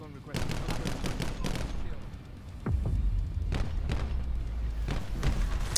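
Rapid bursts of gunfire from Call of Duty Black Ops 4 in the Firebreak mode, sharp repeated shots in quick clusters with a heavy boom midway, loud and close, with talk in the background.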